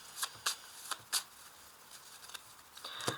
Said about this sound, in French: Maintenant, on va faire une découpe avec le jeu de 32 cartes.